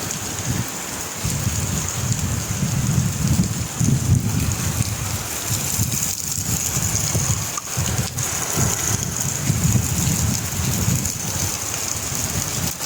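Heavy rain drums steadily on a car travelling the M-5 motorway from Multan toward Sukkur, a dense, continuous wash of drops over low road rumble, loud and unbroken with no talking.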